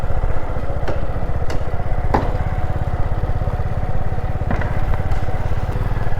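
A Hangarkatte ferry's engine runs steadily at close range, a continuous throbbing drone with a fast, even pulse and occasional clanks on top.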